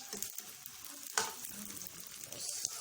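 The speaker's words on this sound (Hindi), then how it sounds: "इनको फ्राई कर देना, शैलो फ्राई" Chicken-stuffed egg rolls shallow frying in a pan of oil, giving a steady close sizzle with small crackles and one sharper pop partway through, no talking.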